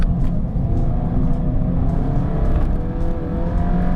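A tuned Alfa Romeo Giulia sedan's engine with a Stage 3 tune drones steadily from inside the cabin, a loud, continuous low rumble with slight rises in revs while driving.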